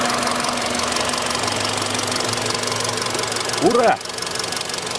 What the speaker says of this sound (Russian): Ничего не шумит, только форсунки клацают.